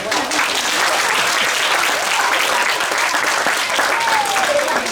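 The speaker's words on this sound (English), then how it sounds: "Give him a clap." A crowd applauds after a crocodile feeding at a matinee crocodile show, loud continuous clapping throughout with a brief thin whistle-like tone near the end.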